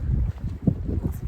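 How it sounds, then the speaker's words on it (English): Gusty wind over choppy Gilmore Lake in Desolation Wilderness, rumbling low against the microphone in uneven buffets for a brief moment. "It seems more windy"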